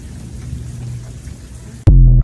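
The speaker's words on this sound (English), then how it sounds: "It'd be some crazy stuff going on with these storms." A storm with a steady hiss of rain, then a sudden, very loud crack and deep rumble of close thunder near the end.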